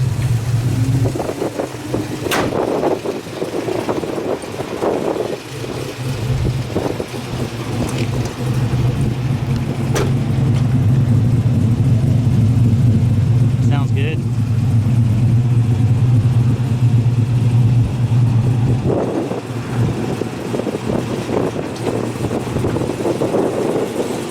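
A Chevrolet Silverado fitted with an LS 376/525 engine, its 4L60 transmission removed and four-wheel drive retained, rumbles loud and close in a steady, deep drone with wind buffeting throughout; a voice briefly speaks.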